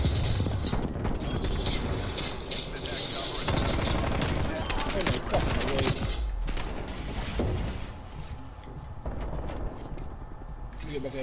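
Rapid automatic gunfire from a Stoner 63 in Call of Duty Cold War, loud and sustained bursts of shots with game effects while players talk over it.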